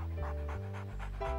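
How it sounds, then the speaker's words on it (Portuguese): A cartoon guide dog pants in quick, rhythmic breaths, close and steady, over soft background music. "O Max é um cão muito especial"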